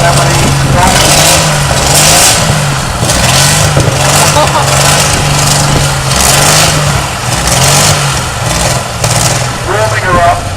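A car engine revs in repeated rising bursts while warming up, loud and close, with a person talking over it.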